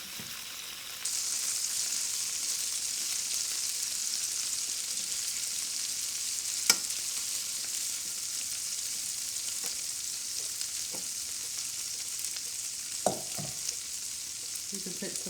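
Cubed pork carnitas hit hot lard and fry with a loud, steady hiss that lasts throughout, close by, with a few faint clicks and taps from the pan and no talk.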